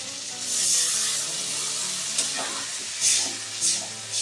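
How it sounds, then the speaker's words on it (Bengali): Potato, eggplant and puti fish curry bubbling in a pan with water added, a steady close sizzle and simmer with a few brief louder stirring or spattering bursts. "ঝোলটা কিন্তু ফুটে উঠেছে"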